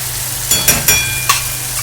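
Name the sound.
frying spice paste with white sesame and poppy seed paste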